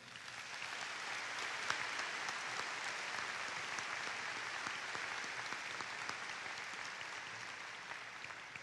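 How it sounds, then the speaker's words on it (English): Steady, even audience applause at a community high school graduation ceremony, with many hands clapping in a dense, continuous wash for nearly nine seconds and no voices on top. "Would you please join me in a round of applause and appreciation for all that they have done?"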